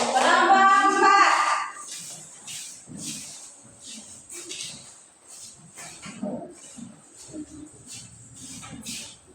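A classroom bursts into a short round of applause for group 4, loud clapping at the start that gives way to children's voices and shuffling.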